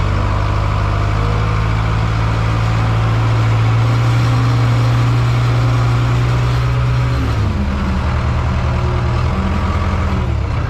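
A semi truck's diesel engine hauling equipment pulls away in first gear with a loud, close, steady droning rumble that shifts pitch partway through as the revs change.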